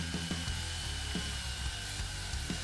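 A household drill fitted with a rust-removal disc strips paint from a metal gate, making a steady high whine with repeated scraping bursts as the disc bites, close and continuous without speech.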